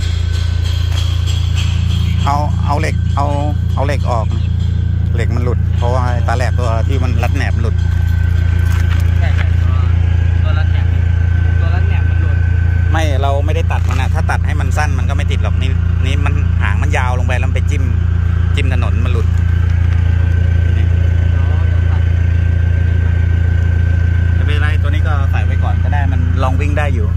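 A livestock-rack truck with welded leaf springs runs its engine during a test drive, making a loud, constant low drone throughout, while people talk over it and occasional metallic clatters break in.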